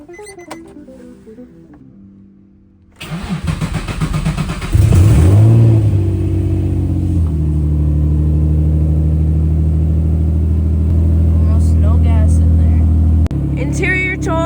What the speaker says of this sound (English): I haven't heard this car start up in so long.